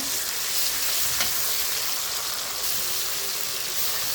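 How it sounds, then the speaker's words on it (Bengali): Onions frying in a pan with ginger-garlic paste, a steady dense sizzle running unbroken throughout, close and fairly loud with no voices. "এখন দিয়ে দিব আদা রসুন বাটা।"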